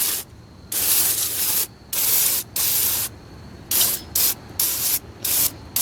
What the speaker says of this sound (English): try to just spray this down a bit and get the garden hose out